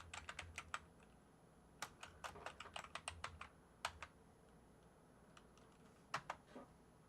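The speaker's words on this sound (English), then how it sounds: "I will type this into the Goog." Fingers tap on a computer keyboard close by in quick irregular bursts of keystrokes, broken by short pauses, with no talking.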